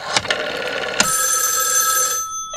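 A telephone rings loud and near, its bell tones sustained for about two seconds after a couple of short clicks, then cut off, with no talk over it.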